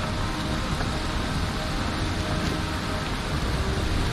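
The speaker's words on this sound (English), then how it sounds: "Maybe I should have not gone while it's raining so much." Heavy rain falls on the open sea in the game Valheim, a steady dense hiss of drops with a low rumbling wash underneath, constant and fairly loud, with no voices.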